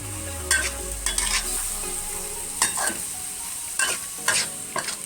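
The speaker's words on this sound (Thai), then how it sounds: "ผัดพริกแกงก็จะเป็นแบบนี้นะคะ" Curry paste stir-fries in a small pan, a soft continuous sizzle broken by repeated clattering scrapes of a spatula in irregular clusters, close by with no talking.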